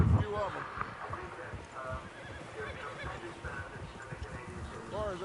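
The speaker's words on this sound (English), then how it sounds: "Horses, quite a few of them" Horses in Red Dead Redemption 2 whinny and snort over a steady patter of hooves, with a group of several animals moving close by while people talk over them.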